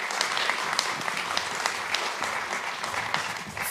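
Audience at the 2026 Tasmania Australian of the Year Awards applauding as John Fornham walks to the stage, a steady, full round of clapping from a large crowd with crisp individual claps.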